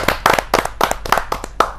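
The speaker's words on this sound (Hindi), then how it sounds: "जोरदार तालियों के साथ" A handful of sharp, loud claps ring out in an uneven rhythm at a Hindi poetry gathering, close and distinct rather than a dense crowd roar.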